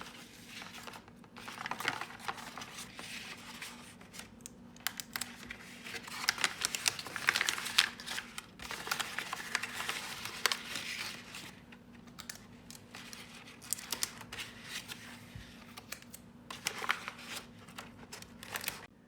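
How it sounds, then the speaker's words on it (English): Sheet of crinkled paper being pressed and adjusted to fit over a plate for a watershed model, giving soft, irregular crinkling and rustling close by throughout, with no talking. "So I adjusted my paper a little bit more so it fits better on the plate."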